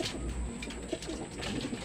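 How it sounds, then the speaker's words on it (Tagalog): Pigeons arriving at their loft after a derby race cooing softly close by, a low continuous murmur of bird calls with no voices. "halos kakarating lang ng dalawa nating ibon"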